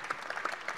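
Brief burst of scattered hand clapping from an audience during a panel speech at a political council meeting, moderately close.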